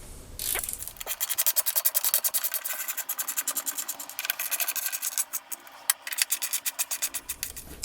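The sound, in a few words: tightening bolts on BMW F 750GS topbox plate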